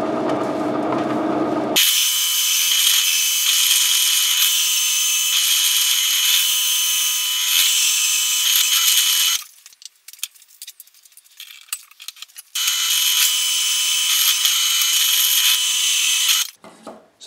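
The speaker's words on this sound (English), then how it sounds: "So I'm just going to start drilling away." A drill press boring into wood of a guitar body, a loud steady whine and grind that cuts out briefly midway with rattling clatter, then resumes before stopping.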